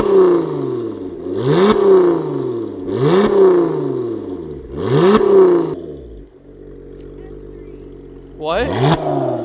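A Lotus Emira engine revs three times in neutral, each blip rising sharply to its soft limiter around 4,000 rpm and falling back. It then settles into a brief idle before a fourth rev starts, with voices in the background.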